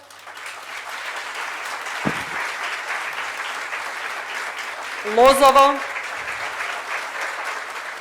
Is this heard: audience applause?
yes